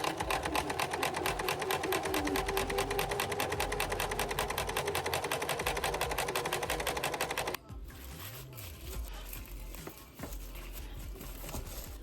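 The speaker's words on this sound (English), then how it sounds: "I'm going to go ahead and sew across these lines all the way around" A sewing machine runs steadily, stitching across fabric lines around a handmade small-business product, its rapid needle chatter loud and continuous for about seven seconds before stopping, leaving quieter handling and rustling noises.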